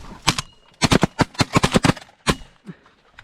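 Gunshots ring out during a pigeon hunt, a couple of quick shots followed by a dense, rapid volley of sharp cracks, then one more shot and a faint trailing pop.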